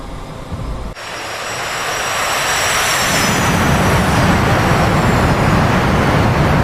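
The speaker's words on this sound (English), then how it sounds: "Loving the blue afterburners" Su-57 jet afterburners in a flight video game ignite and build into a loud, steady roar that rises and thickens over several seconds, with high whining engine tones on top.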